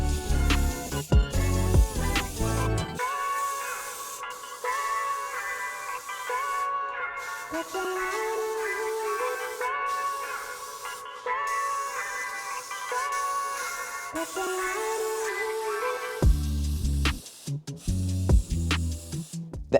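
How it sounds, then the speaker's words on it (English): Metallic spray paint hisses from an aerosol can onto an animatronic endoskeleton in long, steady bursts, set against music. "I've got some metallic spray paint."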